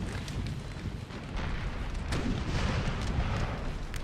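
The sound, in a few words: artillery fire in the video game Napoleonic Total War 3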